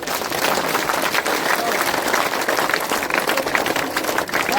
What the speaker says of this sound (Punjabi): ਅਸੀਂ ਇੱਥੇ ਨੂੰ ਤਾੜੀ ਮਾਰ ਲਓ